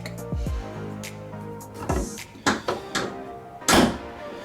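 The door of a Factory Five Cobra kit car being built is worked by hand, giving a few separate close knocks and clunks of the door shutting and latch hardware, ending in one sharper thump, with no talk.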